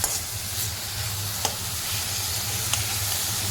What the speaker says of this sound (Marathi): पातीचा कांदा असतो आपला तोच टाकायचा त्याला दोन ते तीन सेकंदासाठी असंच मस्त परतून घ्यायचं